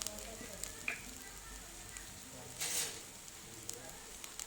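Masala with coriander powder stirred in a hot pan, making a soft, low sizzle with a few faint scraping strokes and one brief louder hiss.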